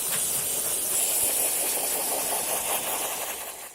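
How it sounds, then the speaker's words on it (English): Loud, steady hiss of a steam cleaner blasting a car engine bay continuously, a broad rushing spray that holds constant for several seconds before easing off slightly at the end. "We can now take our steamer and the brush, and we're going to just start blasting it"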